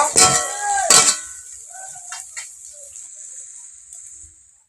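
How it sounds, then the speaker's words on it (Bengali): A metal wok is lifted off the stove while cooking a Bengali elephant foot yam mash, two loud clanging metal knocks near the start followed by lighter clinks, scraping and a fading ringing tone. "এবার আমি কড়াটা নামিয়ে ঢেলে নেব"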